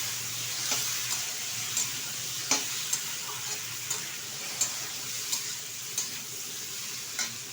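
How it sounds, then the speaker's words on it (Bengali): Fried potato and ridge gourd being stirred in a pan for a rohu fish curry, a steady sizzle with a series of distinct scraping clacks of the spatula roughly every half second to second, close and clear, no talk. "এটাও একটু নেড়ে চেড়ে নেব।"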